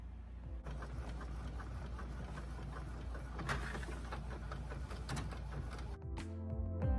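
An Epson ET15000 inkjet printer runs a letter-size sublimation transfer on premium matte settings, giving a quiet, steady mechanical whir with rhythmic clicks and carriage shuttling, then a short burst of louder feed and ejection noises near the end.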